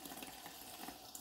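Kitchen tap water runs steadily onto a pork casing being rinsed at the sink, a soft continuous splashing stream heard close up with no talking.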